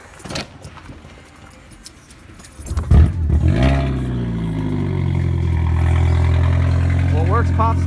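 A VR6 car engine is bump started while being towed by a Subaru, catching with a loud roar and then settling into a steady, droning idle close by, with brief voices near the start.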